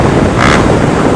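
A Honda Fan 150 motorcycle fitted with a Gemoto Racing exhaust and a 4mm kit gives a short, loud, rough roar that swells briefly in the middle before settling.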